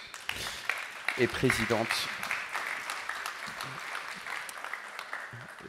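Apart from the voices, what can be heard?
applause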